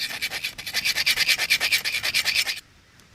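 A knife is drawn in quick, steady strokes across a sharpening stone at a winter bushcraft camp, a close rhythmic scraping of about twenty passes that stops abruptly near the end, leaving quiet.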